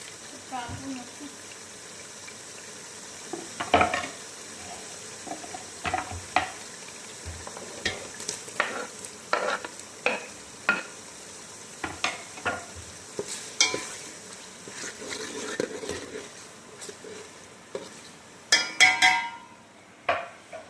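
Vegetables and tomato being stirred in a cooking pot for a large home meal, with scattered scraping and clattering spoon strokes over faint sizzling, irregular and moderately close, with short pauses between bursts.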